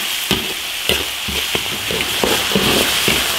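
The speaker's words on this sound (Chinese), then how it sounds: "生姜、花椒、辣椒、香料，黄豆酱，小火慢慢炒，把它那个味儿煸炒出来" Ginger, Sichuan pepper, chili, spices and soybean paste stir-fried over low heat in cold-started oil in an iron wok, giving a steady close sizzle with repeated scraping strokes of the spatula.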